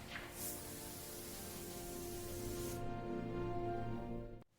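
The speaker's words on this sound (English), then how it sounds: "the spray technique ensures an even, luxurious coating" A steady, broad hiss of a spray gun painting a CNC-cut wooden panel runs continuously for several seconds, close and fairly loud, then cuts off abruptly.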